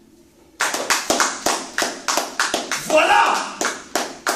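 A church congregation claps in steady rhythmic unison, loud and close, while a voice speaks over the clapping.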